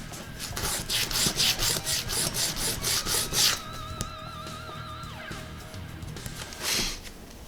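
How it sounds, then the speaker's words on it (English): Rhythmic back-and-forth rasping of hand sanding on wood, about a dozen quick strokes, then a pause with a faint siren wail and one last stroke. "this guy needs to get a little sanding"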